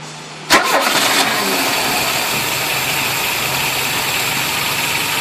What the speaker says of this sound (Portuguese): dá uma partida lá, Milton.